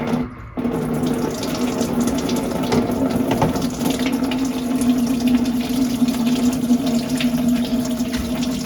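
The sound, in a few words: coolant draining from car radiator into bucket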